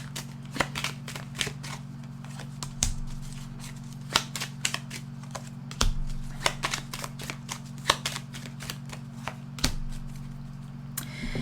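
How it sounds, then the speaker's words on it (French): Paper playing cards being gathered up and handled after falling, giving scattered soft flicks and sharper slaps at an uneven pace over a steady low hum, close by with no voices. "j'ai tout un tas de cartes qui sont tombées, donc je vais les ramasser"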